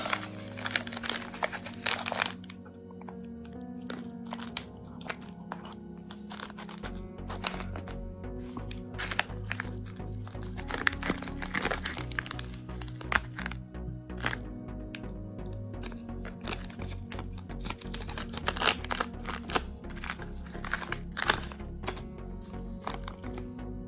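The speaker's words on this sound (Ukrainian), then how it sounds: "Давайте розпочнемо розпаковку. Давайте зараз добудемо упаковочку." Packaging being opened around a 12 V battery charge indicator, close crinkling and rustling of plastic and paper in uneven bursts, continuing for a long stretch without talk.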